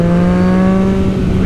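A car engine holds a loud, steady drone right after a downshift, its revs sustained and even throughout with no talking.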